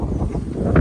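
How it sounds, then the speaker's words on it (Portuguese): Strong wind buffets the microphone on a steep mountain trail up Pico do Lopo in Extrema, Minas Gerais, a loud, constant low roar with no pauses. "Bastante vento."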